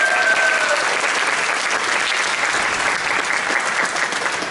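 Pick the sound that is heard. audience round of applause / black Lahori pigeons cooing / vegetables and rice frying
audience round of applause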